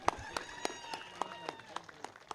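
Faint, evenly spaced handclaps ring out at a prize ceremony, about eight sharp claps in a steady rhythm over a quiet background with a soft tonal hum.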